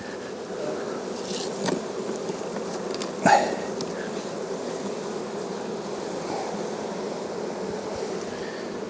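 Honey bees hum around an open hive box with a second-story box being added, a steady low buzz throughout with a few louder passes near the microphone.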